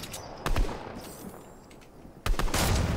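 Gunfire in the video game Fortnite: two loud bursts of shots, one near the start and a longer one toward the end, separated by quieter game ambience.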